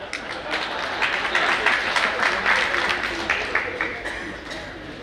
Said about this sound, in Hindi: तुम ताली महिलाओं के लिए बजा रहे, अब बजाओ अपने लिए।